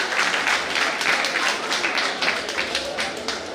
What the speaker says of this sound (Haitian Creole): Vous applaudissez aussi, chers amis.